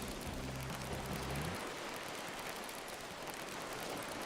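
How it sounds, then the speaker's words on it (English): Rain sound effect from a horror-style video game, a steady broadband hiss of rainfall running throughout, with a low droning tone in the first second and a half before it fades. "Was the rain supposed to sound like that?"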